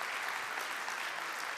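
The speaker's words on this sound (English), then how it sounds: "A big round of applause for our first 5." Steady, dense applause from a conference audience at the Zero Project's ZeroCon17, a continuous wash of clapping at even loudness throughout.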